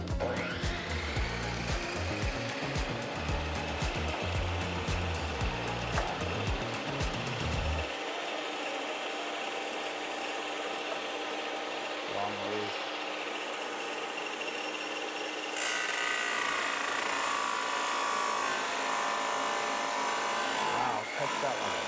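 Dense, thick porcelain tile being cut by a saw blade: a steady, loud high-pitched grinding whine that holds throughout, with a lower motor drone dropping out partway and a brighter, harsher cutting tone near the end.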